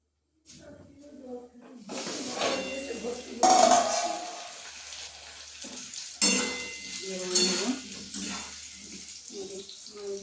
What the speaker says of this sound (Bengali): ভালো করে নেড়ে ধরবো।